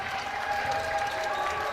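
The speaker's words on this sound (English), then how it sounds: "Cheers coming up from the YU crowd." A crowd at a Yeshiva men's college basketball game against Maritime cheers and claps, a steady, moderate wash of applause heard from a distance.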